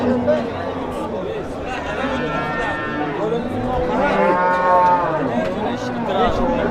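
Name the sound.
cows mooing at a cattle market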